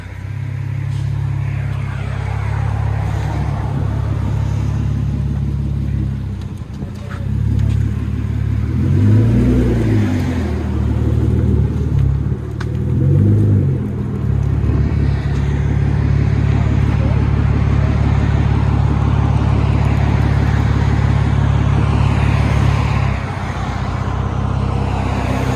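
Hyundai Genesis Coupe with a 3.8-liter engine and rear muffler delete with 4-inch black tips, its deep exhaust rumbling steadily and swelling in two revs midway, with road traffic in the background.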